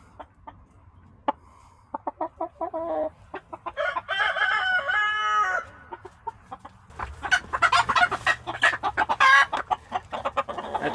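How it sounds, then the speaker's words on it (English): A rooster in a backyard flock crows loudly and clucks nearby, a run of sharp clucks leading into a long crow, then a rapid burst of loud clucking and squawks. "He's a beautiful rooster too."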